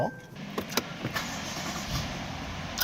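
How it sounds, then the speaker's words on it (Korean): A flagship 750 luxury sedan fires up by push-button start, its engine catching and settling into a steady, fairly quiet idle heard from inside the cabin, with faint clicks and mechanical noise around it. "이 시동 걸었을 때 750 차량만의 이 엔진 사운드가 있습니다."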